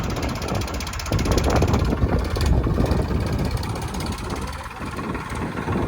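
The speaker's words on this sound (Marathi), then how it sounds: "तसं काय ट्रॅक्टर चाललाय रानातून." Tractor driving through a village field at dusk, a steady mid-distance engine drone with a rattling mechanical chatter that swells and stays continuous, no talk.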